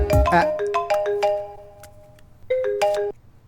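A phone ringtone plays a bright melodic chime pattern, pausing briefly and then repeating, loud and close with no speech.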